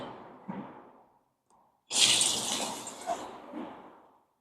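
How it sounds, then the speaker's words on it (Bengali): Battered fritters (bora) slipping one after another into hot oil, a few soft plops followed by a sudden loud, close burst of crackling sizzle that slowly fades, with brief flares as more pieces go in. "তেলটা গরম হলে আমি বড়াগুলো ছাড়ছি।"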